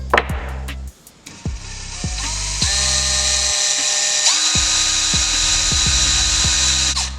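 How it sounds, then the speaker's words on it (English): A power drill bores a pilot hole into the base of a bobcat skull, with short bursts and motor whirs before one long steady drilling run that winds down at the end, close and loud. "I'm gonna drill a pilot hole in this."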